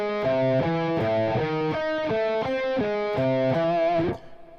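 A distorted electric guitar plays the 1-2-4-3 finger exercise over a held chord shape: a steady, repeating four-note pattern of clear, sustained notes lasting about four seconds before it cuts off.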